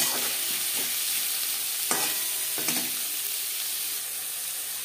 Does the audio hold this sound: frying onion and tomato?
yes